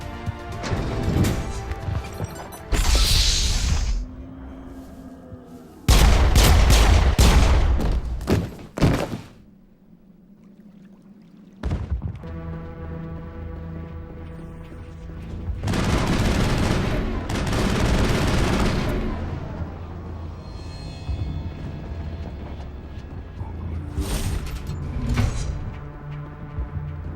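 Loud bursts of gunfire from the video game Mass Effect on Virmire, coming in heavy clustered volleys with crashing impacts, separated by quieter stretches of ambient game sound.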